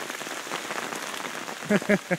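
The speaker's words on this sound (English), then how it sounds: "You can hear the rain." Soft rain patters steadily on a surface, with a few louder tonal bursts near the end.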